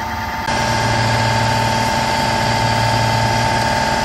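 Sandblasting a Mini Cooper engine flywheel inside a blasting cabinet: after a brief start, a loud, steady hissing roar of abrasive blast with a constant machine hum underneath, running continuously.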